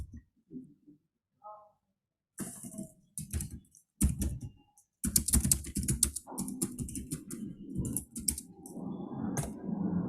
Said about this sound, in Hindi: पहले हम एक लाइन लिख लेते हैं, कुछ भी लिख लेते हैं, एक रैंडम पैराग्राफ लिख लेते हैं।